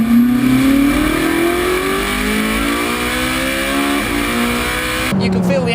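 A Ferrari 458 Speciale engine revs high above 5,000 RPM, one long loud rising howl that holds for most of the run before a brief lift and gear change near the end, with faint voice underneath.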